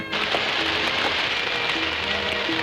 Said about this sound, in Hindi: ये क्या बिन मौसम बरसात?